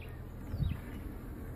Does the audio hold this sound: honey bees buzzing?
yes